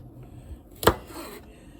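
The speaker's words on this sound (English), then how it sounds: "So now I'm gonna start dicing a few." A single sharp knife chop through broccoli florets on a cutting board, being diced for a creamy cheesy broccoli and potato casserole; one close, crisp impact in an otherwise quiet kitchen.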